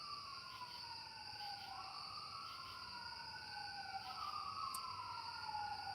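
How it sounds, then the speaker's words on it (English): A faint, distant emergency siren wailing up and down over several seconds, heard far off outdoors at night against a steady, high background of chirping crickets. "that is only the second siren I have heard in a month or so"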